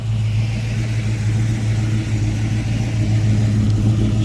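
A chopped 1940 Chevrolet street rod with a fresh blueprint 355 crate motor idling, a steady deep rumbling engine note held evenly at close range for the whole stretch, no voices.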